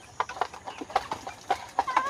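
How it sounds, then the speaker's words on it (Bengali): Home-raised tiger chicken chicks on a small farm give a scattered run of short, bright peeps close by, several calls in quick uneven succession with no talking. "এগুলো হচ্ছে টাইগার মুরগির বাচ্চা, ঘরের বাচ্চা।"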